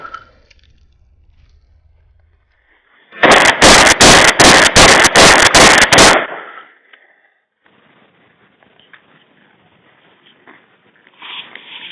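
A rapid burst of about eight loud, sharp shotgun blasts from a fast semi-automatic shotgun built for indoor defense, fired close in quick even succession, then quiet.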